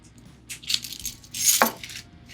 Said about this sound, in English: So here's my keys.